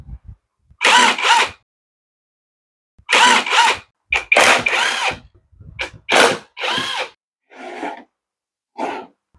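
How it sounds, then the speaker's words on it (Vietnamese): A power drill whirs in short repeated bursts, loud and close, as screws are backed out of the rear cover of a Hyosung electric motor from Korea, with brief silences between each burst. "Sau khi tháo 4 cái vị trí vít này ra các bạn thì chúng ta sẽ lấy cái phần nắp đuôi ra trước"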